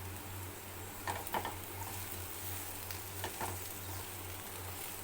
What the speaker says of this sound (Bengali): কাঁচা লঙ্কাটা দিয়েও আমি একটুখানি ভালো করে ভেজে নেবো